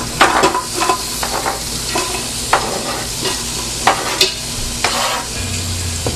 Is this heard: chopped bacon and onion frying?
yes